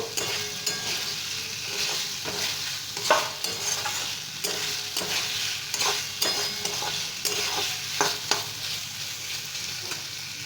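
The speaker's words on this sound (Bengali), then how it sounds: "এর মধ্যে আমি দিয়ে দেব আলুগুলো আলুর সাথে এবার পোস্তটাকে ভালো করে মিশিয়ে নেব" Potatoes stirred through poppy seed paste in hot frying oil for vindi aalu posto, a steady close sizzle broken by repeated scraping and clacking strokes of the spoon against the pan.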